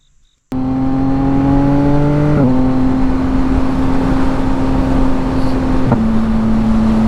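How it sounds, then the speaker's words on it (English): A modified 2025 Yamaha MT-09 motorcycle exhaust bursts into a loud, steady rumbling drone after a brief quiet moment while riding, with two distinct pitch drops as the engine note shifts, close and continuous, with no talking. "I'll talk about the mods I did in case anybody's interested in doing what I did on this bike, so you can hear the exhaust and whatnot"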